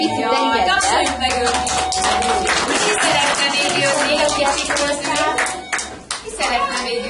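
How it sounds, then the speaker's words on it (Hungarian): A group of young children at a kindergarten carnival party clapping for a child, sharp, lively hand claps in an uneven rhythm, close by, with children's voices and chatter mixed in. "Tapsoljuk meg őt."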